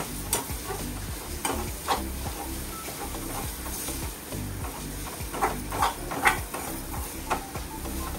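Sweet potato sizzles gently in ghee while a spoon stirs and scrapes the pan, with soft, irregular clinks over a steady frying hiss.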